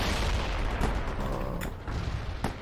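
Gunfire in the war strategy game World in Conflict: a few sharp, separate cracks spaced out over a dense, rumbling battle din, moderately loud and close.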